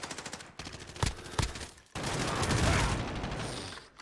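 MP7 submachine gun fire in a Call of Duty multiplayer match, sharp close bursts followed by a longer sustained stream of rapid shots, loud and dense with no talking.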